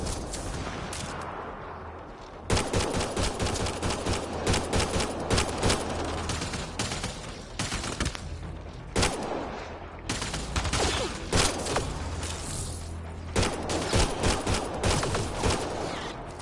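Gunfire in the sci-fi shooter Mass Effect Andromeda rattles on for many seconds, dense bursts of close shots with short pauses between volleys, loud and alone.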